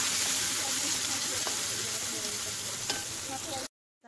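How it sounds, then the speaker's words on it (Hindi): Masala frying in oil in a pan for a raw banana sabzi, a continuous close sizzle with scraping stir strokes and occasional metal clinks, cutting off abruptly near the end. "मसाला, इसे अच्छे से मिक्स कर लेंगे।"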